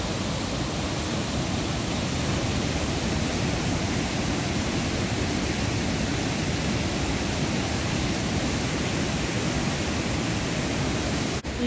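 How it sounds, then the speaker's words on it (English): Steady roaring spray from a waterfall along a trail near the Townsend Wye and the Sinks, a loud continuous broadband rush of falling water with no voices. "spray off the waterfall."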